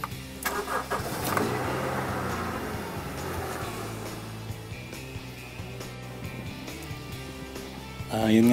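A car with a brake light fault cranks and fires up at close range, settling into a loud, steady idle with a low rumbling drone; a person speaks briefly near the start.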